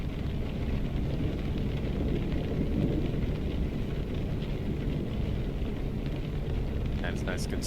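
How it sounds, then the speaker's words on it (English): Steady rain and low rumbling thunder from a nighttime thunderstorm in American Truck Simulator, heard from inside the cab with a droning truck engine, constant and fairly loud throughout, with faint high chirps near the end. "Driving in the middle of a thunderstorm, in the dark, just listen to the wiper blades, listen to the rain,"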